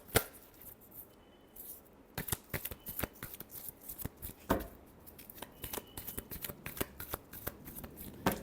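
Tarot cards shuffled by hand in quick riffling bursts, close and crisp, with brief pauses between rounds of flicking and no voices.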